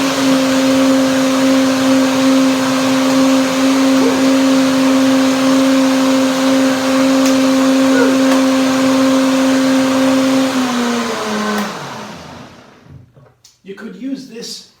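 A blender whirs loudly and steadily for about eleven seconds, blending a pineapple papaya smoothie dressing, then winds down and stops, followed by brief clinks and a short voice.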